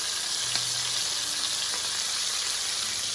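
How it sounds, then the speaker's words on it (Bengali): A chicken piece fries in extra virgin olive oil with a loud, steady, close sizzle and crackle that holds evenly throughout, with no voices. "এটা কিন্তু সম্পূর্ণ অলিভ অয়েলে আমি ফ্রাই করছি, এক্সট্রা ভার্জিন অলিভ অয়েল।"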